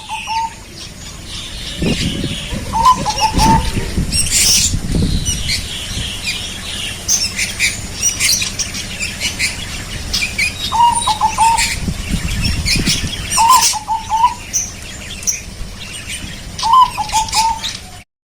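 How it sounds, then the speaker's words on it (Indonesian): Caged zebra doves cooing loudly and close, repeated trilling coos every few seconds over a busy background of other birds chirping. "Itulah 2 perkutut saya yang bersuara besar dan dominan"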